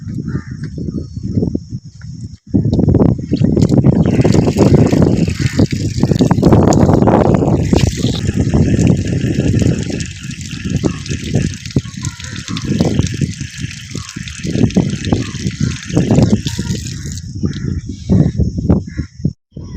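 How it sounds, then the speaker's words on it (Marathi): Water gushes steadily from an outdoor water tank beside a school. Crows caw nearby and the flow surges and eases over about twenty seconds. "इथं पाण्याची टाकी आहे तर इथं पाणी पिऊन घेतो आपण"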